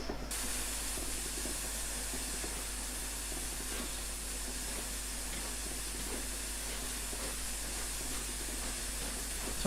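Flying Scotsman steam locomotive starting off in a Train Sim game gives a continuous, even hiss of steam with faint irregular clanks underneath, steady from start to finish and without any voices.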